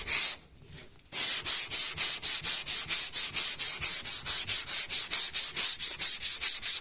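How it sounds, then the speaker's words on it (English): Fine 1800 grit sandpaper is rubbed by hand across a car body during paint prep, giving a rapid, even series of close, hissing back-and-forth strokes after a brief pause. "Use 1800 sandpaper and work with hand without machine."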